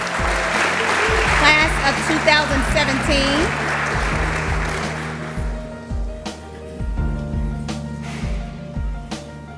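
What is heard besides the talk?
audience applause at graduation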